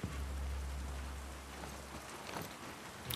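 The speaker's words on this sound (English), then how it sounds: "Oh, the sound of that rain." Rain falling in The Last of Us Part II, a soft steady patter and hiss of drops in a rainy Seattle setting, fairly quiet, with a few brighter splashes near the end.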